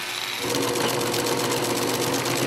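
Industrial sewing machine stitching fabric for coats, starting after a brief pause then running in a fast, even mechanical whir with rapid needle clatter, close and loud.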